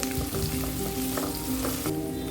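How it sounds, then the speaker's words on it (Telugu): Thinly sliced onions with curry leaves, dried chillies and green chillies frying in hot oil, a steady close sizzle with faint stirring scrapes throughout and no speech. "సన్నగా కట్ చేసుకున్న ఉల్లిపాయ ఒకటి వేసుకోవాలి కొద్దిగా కరివేపాకు కూడా వేసుకొని ఉల్లిపాయలను బాగా ఫ్రై చేసుకోవాలి"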